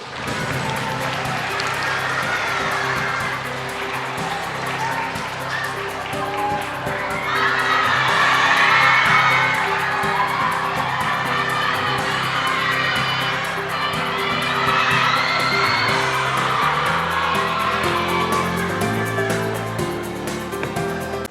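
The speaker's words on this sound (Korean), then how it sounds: "박수로 환영해 주시기 바랍니다" Audience at the 2015 Korea Drama Awards ceremony applauds and cheers to welcome award presenters, a dense, steady wash of clapping and shouting from a large crowd that swells louder midway and keeps going throughout.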